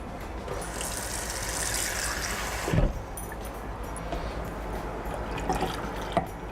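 Water is poured from a container into a cooking pot of vanilla-flavoured mixture, a steady splashing gush lasting a couple of seconds, then quieter trickles and drips with faint kitchen noise.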